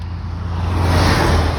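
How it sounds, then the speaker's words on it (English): A car passes close on a street, a loud, broad roadway rush that swells steadily over a moment with a low engine hum beneath. "So I have traffic coming, so I periodically have to get in and out of the street."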